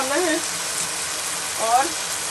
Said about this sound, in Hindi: तो इसको 5 मिनट और अच्छा सा भूनना है